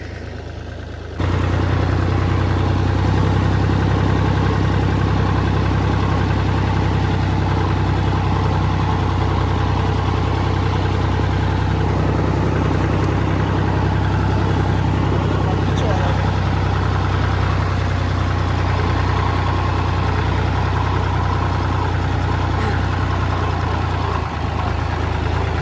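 A tractor engine on a Pakistani village farm runs steadily after starting, a loud, continuous low-pitched rumble with constant vibration that stays even throughout.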